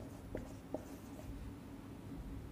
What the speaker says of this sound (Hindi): आप यहां पर लिखेंगे